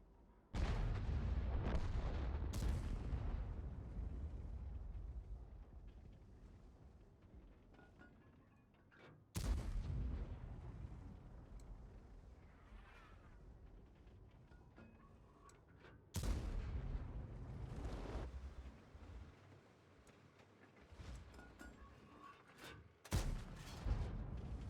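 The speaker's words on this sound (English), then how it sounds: "So I'm just shooting off my whole ammunition, but it doesn't seem that I have hit any shot." Leopard 1 tank cannon firing in World of Tanks, four heavy booming blasts at irregular intervals, each followed by a long rumbling decay, with a sharper crack near the end.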